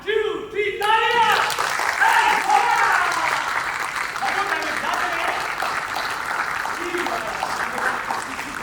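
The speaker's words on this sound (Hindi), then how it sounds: "मैं कहूँगा 1 2 3, तो 3 दूंगा और फिर आप तालियां बजाएंगे" Theatre audience applauding on cue: a burst of clapping starts after a short spoken count and carries on steadily throughout, loud and dense from a large crowd, with a voice heard at the start.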